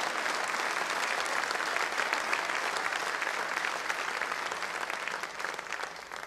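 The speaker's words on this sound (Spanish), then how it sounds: "Dele un aplauso si lo cree conmigo en esta mañana" A church congregation claps together through a Spanish-language morning service, dense steady applause filling the room for about six seconds and easing slightly near the end.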